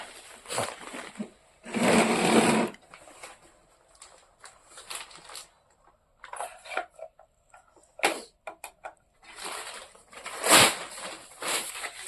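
A sewing machine stitches a bag in short, close bursts of rapid mechanical chatter, with quiet pauses and small handling taps between runs.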